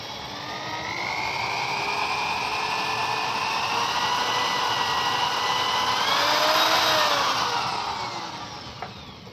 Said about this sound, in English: drilling holes into some of these heads